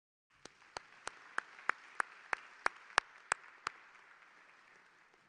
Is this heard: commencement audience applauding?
yes